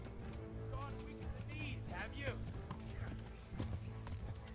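Rapid hoofbeats of a galloping horse in the video game Kingdom Come: Deliverance drum steadily beneath a talking voice, with a brief whinny partway through.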